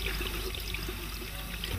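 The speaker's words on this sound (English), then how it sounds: "Wet your hands under running water." Tap water runs steadily at a sink while hands are wetted before washing, a continuous close splashing hiss with no voices over it.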